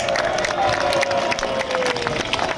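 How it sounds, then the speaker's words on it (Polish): A crowd at a political rally in Katowice applauds and cheers continuously, a steady wash of clapping and crowd noise with a sustained tone running underneath. "duże brawa dla całej prawicy, która się zaczyna wreszcie łączyć"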